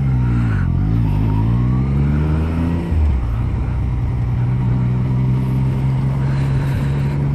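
A Yamaha MT-09 motorcycle with an original Akrapovic exhaust revs loudly up and down nearby, then settles into a steady, droning idle.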